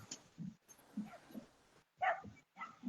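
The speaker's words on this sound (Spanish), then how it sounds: "No sé dónde está este perro ladrando." A dog barks far off in the distance beside a lake and wetland, a few muffled barks and yips spaced irregularly through a quiet outdoor stretch.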